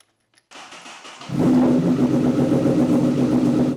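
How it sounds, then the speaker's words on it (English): A Honda CBR1000RR motorcycle engine, fitted with a new cam chain tensioner, cranks briefly, then catches and settles into a steady, loud idle, running close up. "the engine sounds way quieter now I've changed this cam chain tensioner"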